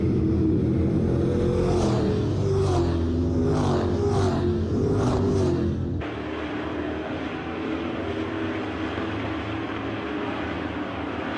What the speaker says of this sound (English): These super trucks are flying here tonight.